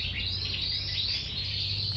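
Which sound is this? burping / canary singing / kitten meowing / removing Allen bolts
canary singing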